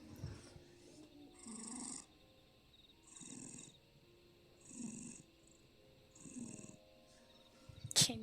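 A pet cat snoring and purring up close, in four slow, rhythmic breathing cycles with soft raspy rumbles separated by quiet pauses. A brief sharp sound comes at the very end.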